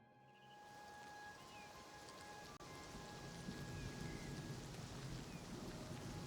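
Steady rain pours down in the game Oblivion Remastered, a dense continuous hiss of drops with faint rumbling beneath, lasting throughout with no voices.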